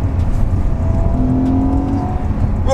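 Porsche Panamera GTS engine revs loudly and up close in a short burst, a dense rising growl that holds strong throughout, with no talking.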